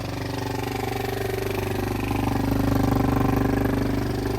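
A quad bike engine starts up and settles into a steady, slightly uneven running rumble with a rhythmic pulsing, swelling a little louder near the end, close by with no talk.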